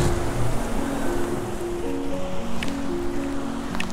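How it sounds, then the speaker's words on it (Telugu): Steady broadband rush of the Malana river flowing in a mountain valley near Malana village, continuous and fairly loud with no talking, a few faint clicks over the water. "ఇది వచ్చేసి మలానా రివర్."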